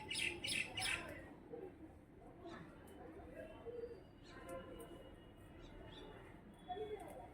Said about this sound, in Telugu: నేను ఈ హార్వెస్ట్ ఈవినింగ్ చేశానండి, అందువల్ల బర్డ్స్ సౌండ్ వినిపిస్తుంది చూడండి